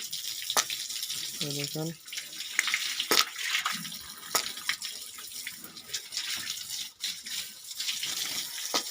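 Tap water gushes and splashes steadily while pigs are bathed on a pig farm, with brief talk over the running water and some faint squeals.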